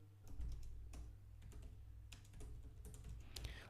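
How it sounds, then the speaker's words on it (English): Typing on a computer keyboard, entering a plugin name on a WordPress add-plugins page: a quiet run of soft, irregular key clicks close to the microphone over a low steady hum. "let me type that out really quickly here"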